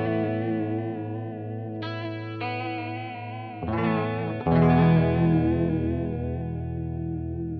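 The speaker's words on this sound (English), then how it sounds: "So you get a stereo swirl on this pedal." An electric guitar runs through an Ibanez Bi-Mode Chorus pedal in stereo into two miked amps, sustained chords shimmering with a wide swirling chorus, with new chords struck partway through, loud and alone.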